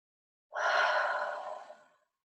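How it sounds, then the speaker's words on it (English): A single long, deep breath drawn close to the mic during a quiet energy balancing routine, rising fast and then fading slowly over about a second and a half, with no talking. "2 deep breaths."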